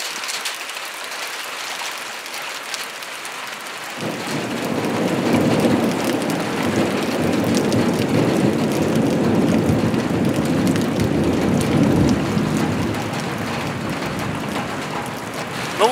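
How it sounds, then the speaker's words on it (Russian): A heavy summer rain downpour in Tomsk hisses steadily and loudly after starting up partway through, with low, distant thunder rumbling beneath the roar of the rain. "Вот небо, оно все равно там громыхает, но это уже вдали нас."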